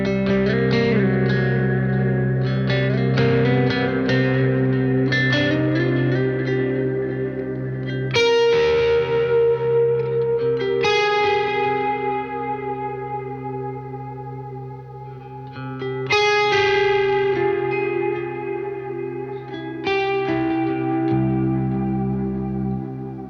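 Ambient electric guitar plays sparse, sustained chords and notes washed in reverb and delay, each phrase ringing out and overlapping the next, with no voices.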